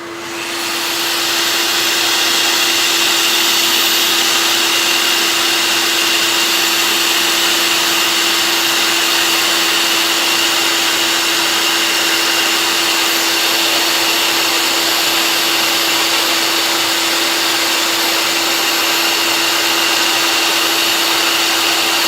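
A dust extractor roars steadily and loudly in a woodturning workshop, a constant broadband whoosh with a fixed low hum that starts abruptly and runs unbroken throughout, with no voices.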